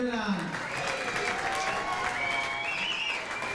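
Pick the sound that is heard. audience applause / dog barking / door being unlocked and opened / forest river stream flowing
audience applause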